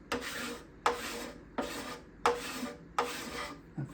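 A hand scraper drags across the back side of a wooden binding in five or six evenly spaced rasping strokes, each a short, close, scratchy pull followed by a brief pause.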